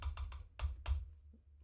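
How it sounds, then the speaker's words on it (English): Rapid, forceful clicking on a computer keyboard in short bursts of sharp taps, close and fairly quiet, with a brief pause before a final faint click. "Stop angry clicking."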